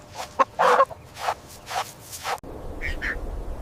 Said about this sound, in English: This is a hen.